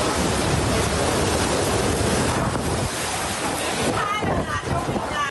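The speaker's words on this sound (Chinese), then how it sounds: "绿岛南寮的风好急，雨根本是用扫的" Typhoon Haikui batters Nanliao on Green Island with a loud, unbroken roar of gusting wind and driving rain that saturates the microphone, with faint shifts in the buffeting toward the end.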